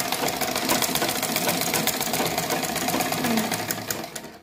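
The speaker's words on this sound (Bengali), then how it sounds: "আমরা এখন একটি ফেব্রিক্স বা একটি কাপড় সেলাই করব" A Butterfly or Singer sewing machine with badly set thread tension runs steadily while stitching fabric that bunches up, giving a close, continuous mechanical whir with a fast rattling pulse throughout.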